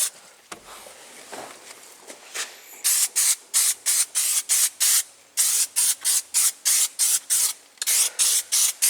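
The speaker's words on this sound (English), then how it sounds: "I'm just gonna go around and give her a quick spray so she looks good." Spray detailer misted onto a 1970 AMC Gremlin car: after some quiet handling noise, a loud, close run of about a dozen crisp, evenly paced trigger-spray bursts follows, with no talking.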